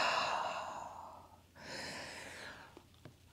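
During a morning yoga practice, a slow audible exhale through the nose or mouth, soft and close, followed by a second drawn-out breath and a couple of faint clicks.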